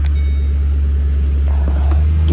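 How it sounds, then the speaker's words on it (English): A 2006 Ford Mustang GT engine idles with a loud, steady low hum and faint rattles on top, continuous throughout; the car has a check engine light with lean-condition fault codes. "Restarting the engine."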